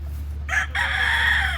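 A gamefowl rooster on a breeding farm crows once, a short burst followed by a longer drawn-out call, close and clear over a low steady hum.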